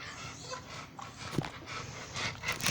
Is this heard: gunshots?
no